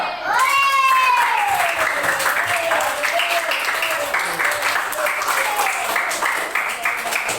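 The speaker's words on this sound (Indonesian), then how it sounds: "Tepuk tangan untuk kita semua." A school class applauds everyone together: steady, dense clapping fills the whole stretch, mixed with children's raised voices and chatter.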